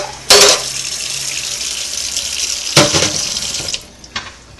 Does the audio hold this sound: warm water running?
yes